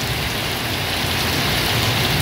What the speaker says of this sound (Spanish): Así es como va la lluvia allá